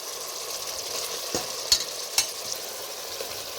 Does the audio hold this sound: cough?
no